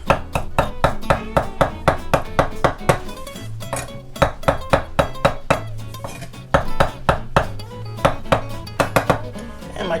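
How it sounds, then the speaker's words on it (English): A knife rough-chops fresh dill on a cutting board, making rapid, regular, crisp thuds one after another in quick succession, loud and close, with no talking. "And we'll just put a rough chop on that."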